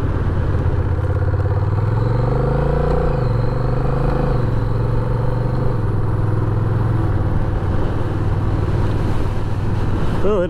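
A Honda Rebel 1100 motorcycle cruises on a breezy day, its steady engine drone loud and continuous with a rising and falling pitch as the rider shifts, wind rush blended underneath.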